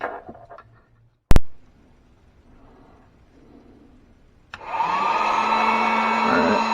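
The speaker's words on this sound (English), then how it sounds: "Let me go ahead and get the heat gun ready." A heat gun being readied for work on an old pair of hemostats switches on after a brief sharp knock and a stretch of near silence, then blows a steady, fairly loud whooshing hum for about two seconds.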